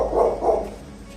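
Puppies of the Chinese rural dog, five-black breed, about forty days old, give two quick, loud, close yips in succession.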